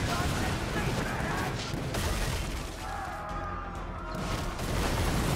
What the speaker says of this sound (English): Full cannons.